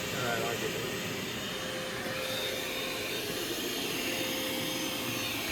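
A Vac Master 1.5 gallon mini shop vac runs continuously at a loud, steady, whining drone, with a faint tone held throughout during carpet cleaning in a large house.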